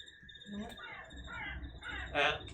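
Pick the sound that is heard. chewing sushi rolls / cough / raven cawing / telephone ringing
raven cawing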